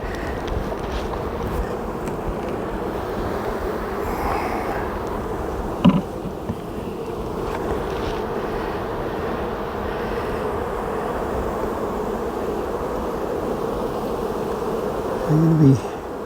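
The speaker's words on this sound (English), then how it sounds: "here's my cell builder, just overwhelming with bees" Honey bees swarm thickly inside a queen cell builder hive, giving a dense, steady droning hum that fills the whole stretch up close, with a couple of brief clicks partway through.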